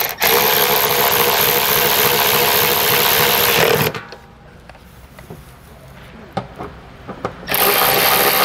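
Power tool driving 10 millimeter nuts on a Curt trailer hitch receiver being installed on a 2022 Honda CR-V, a loud sustained whir for about four seconds, a pause with faint clicks, then another loud burst near the end.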